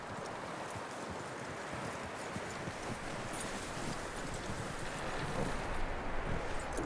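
Horse hooves clip-clopping steadily in the video game Red Dead Redemption 2, a continuous patter under a constant outdoor wind-like bed, with no talking.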